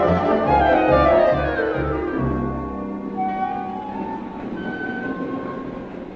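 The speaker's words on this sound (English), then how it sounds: "The train now standing on platform 4 is the 2:30 express for Dartmoor Prison." Train sound effect at a station platform in a radio comedy: a loud rhythmic chugging of several heavy beats fades into steady rolling rail rumble and brake-like squeals, with no talk over it.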